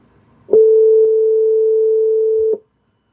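A steady, loud phone tone rings for about two seconds on a call back to someone, starting and stopping abruptly, with faint clicks at its start and end and no voices over it.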